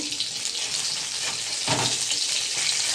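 Pieces of fresh live fish fry in a small amount of hot oil in a home kitchen, giving a steady, close sizzle with a few brief clatters.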